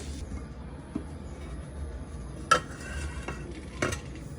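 Bamboo shoots and pork belly are stirred in a pot, with a low continuous scraping and simmering bed broken by a few sharp clacks of the utensil against the pot.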